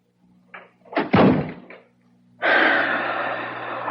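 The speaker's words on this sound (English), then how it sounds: "shut the door." A door is shut in a radio drama, landing as a single firm slam with a brief rattle, followed by a steady broadband hiss. There is no speech during it.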